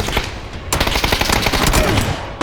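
Rapid bursts of automatic gunfire in the battle royale game PUBG, dense overlapping shots with a brief lull before a sustained, loud volley that continues to the end.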